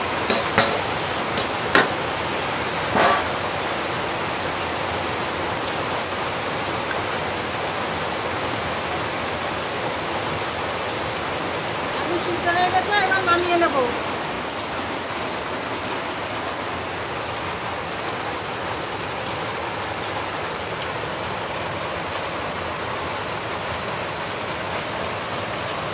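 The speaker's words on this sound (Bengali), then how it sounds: "বলতে বলতে তো বৃষ্টি শুরু হয়ে গেছে, ঝমঝমিয়ে বৃষ্টি হচ্ছে" Heavy monsoon rain pours steadily outdoors as a broadband hiss that lasts the whole time. A few ticks and clatters rise above it early on, and a voice speaks briefly near the middle.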